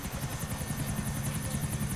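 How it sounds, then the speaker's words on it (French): Helicopter rotor from the video game GTA 4, a steady loud chopping thrum with rhythmic blade pulses throughout, heard alone without talk. "ouais, il y a que l'hélicoptère."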